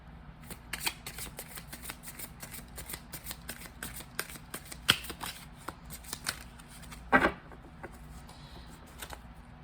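Tarot cards are shuffled by hand in a quiet room, giving a close, soft run of papery riffles and flicks with a few sharper snaps, and no one speaks.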